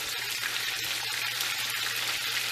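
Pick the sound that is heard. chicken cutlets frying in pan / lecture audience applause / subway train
chicken cutlets frying in pan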